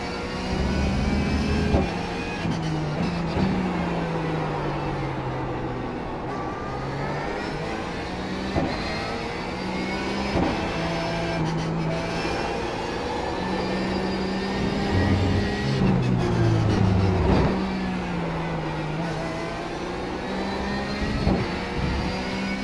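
Engine of a Porsche 911 GT3 Cup car in iRacing at Interlagos, São Paulo, revving hard through rising and falling gear pulls, loud and continuous with sharp shifts and lifts.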